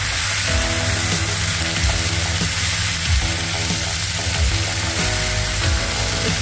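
Spice paste for a Bengali-style salmon curry sizzles and fries steadily in a hot pan, a continuous loud crackle with occasional scraping stirs, no voices over it.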